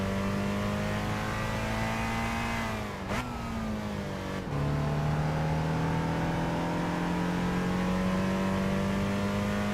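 A BMW 1 Series engine revs in Gran Turismo 7, a loud steady high engine drone that drops sharply at gear changes and then climbs smoothly again.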